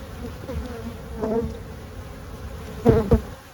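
Honeybees buzz around an open hive, a close, steady insect drone with a few louder passes as bees fly near, and no talking.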